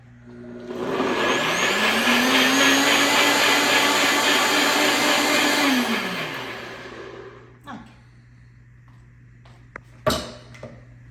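Blender blitzing vegetable pulp, a loud steady whirring motor that rises in pitch and holds for several seconds before spinning down, followed by a few faint clicks and knocks.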